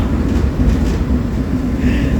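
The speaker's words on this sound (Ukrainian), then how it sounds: "реально, старенький трамвай" An old tram runs through Kyiv with a loud, steady low rumble and rolling rail noise throughout, heard from on board, with a faint higher squeal near the end.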